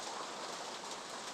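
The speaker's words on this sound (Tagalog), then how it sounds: "Ulan ngayon." Rain falls in a soft, steady hiss, faint and even over a brief moment, with no voices.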